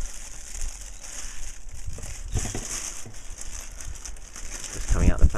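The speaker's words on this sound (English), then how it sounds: "Just coming out the plastic bag." Plastic bag crinkling as a TechniSat HDFV Freeview HD receiver is pulled out during unboxing, a soft close rustle running throughout with a louder crumple near the end, with talk over it.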